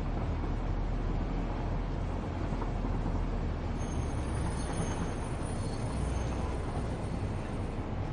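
A train rumbles along continuously in the factory-building game Satisfactory, a steady dense mechanical roar with a faint high whine entering midway, loud and even with no talk.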